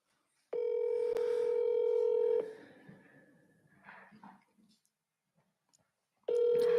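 Telephone tones while placing a call: a loud steady dial tone for about two seconds, a short burst of keypad tones, faint noise, then the tone starts again near the end.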